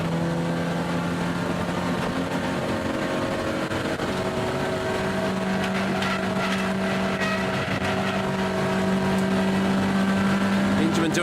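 BMW E30 race car engine pulling hard under full throttle on a hilly New Zealand circuit, a steady loud drone with rising harmonic tones throughout, heard under continuous commentary.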